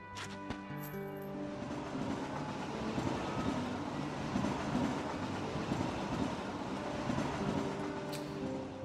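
A train rumbles steadily along the rails in the Kingdom Hearts 2.5 HD ReMIX video game, a continuous low mechanical roar with faint clatter, moderately quiet, after a brief tonal chime at the start.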